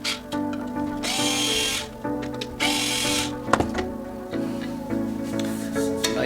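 A power drill whirs in repeated bursts while backing screws out of the case of a Pioneer SA-6800 stereo receiver, close and fairly loud, with a sharp clunk partway through and no talking.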